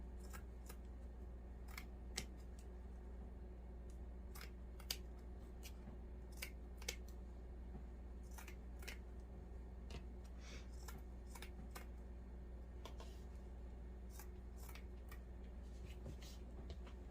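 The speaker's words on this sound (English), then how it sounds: "So you just cut those pieces in strips." Scissors cut fleece fabric into strips in a quiet room, giving a long, irregular run of faint, crisp snips and slicing clicks, close but soft, with no talking.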